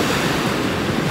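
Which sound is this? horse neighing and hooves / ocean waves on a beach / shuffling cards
ocean waves on a beach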